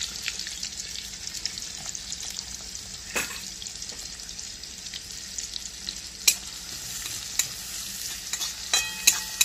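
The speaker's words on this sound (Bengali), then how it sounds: "পেঁয়াজটা খুব বেশি লাল লাল করে ভাজার দরকার নেই" Chopped onion with whole cumin fries in white oil and a little ghee, a steady close sizzle broken by sharp scraping clicks of a spatula stirring the pan, with no talk.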